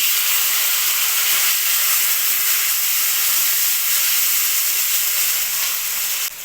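Green chillies and chopped tomatoes sizzle in hot oil with a loud, steady, close hiss that runs unbroken throughout.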